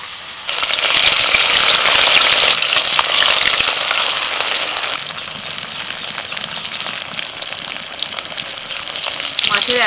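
Small chara pona fish marinated in spices sizzle loudly in hot oil in a pan, a steady crackling hiss that flares at first and then settles slightly, up close with no talk.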